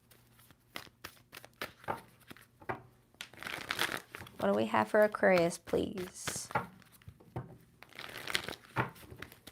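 A tarot card deck being shuffled, with quick papery riffles and soft crinkling taps spread across the clip, close up, while someone talks over the card noise.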